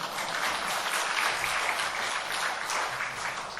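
A church congregation applauding the men who cooked and washed dishes, dense steady clapping from many hands that holds evenly throughout, with no voices over it.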